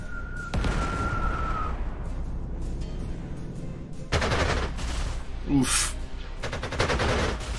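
Units firing in the wartime strategy game Panzer Corps, with broadband bursts of gunfire and booms recurring through the clip, one dense volley in the middle and heavier shots near the end, a brief exclamation from a voice.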